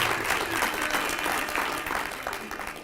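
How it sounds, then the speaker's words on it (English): An audience at an industrial engineering awards event applauds for Mama Bolo, a dense, steady wash of many hands clapping that fills the room at an even level. "Can we give him a round of applause again?"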